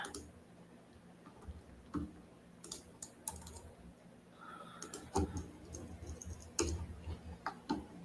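Typing on a computer keyboard, a close, irregular run of soft key clicks and taps with occasional louder strikes over quiet room tone.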